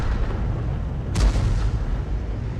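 A single heavy boom from a GW self-propelled artillery tank firing in World of Tanks, sharp and loud with a lingering rumble over constant low engine drone.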